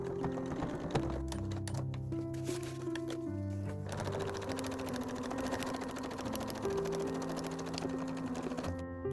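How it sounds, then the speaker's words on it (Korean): A sewing machine stitches an L-shaped seam along the right side of a bag pocket, running in steady bursts with short pauses between, close and clear with a mechanical whir and rapid needle rhythm, no talking. "주머니 오른쪽을 기역자로 박음질 해줄게요."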